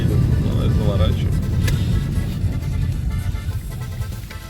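A Mitsubishi Lancer 10 with a 1.8 engine and CVT gearbox accelerates during a test run, heard from inside as a steady low engine and road rumble under people talking.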